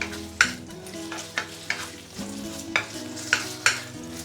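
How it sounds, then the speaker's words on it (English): Pork belly frying in a pan over medium-high heat, a continuous close sizzle punctuated by regular sharp scrapes and knocks of stirring roughly every half second, with a low hum underneath. "Usually, you just use a medium-high heat to fry this for like, I would say 3 to 5 minutes."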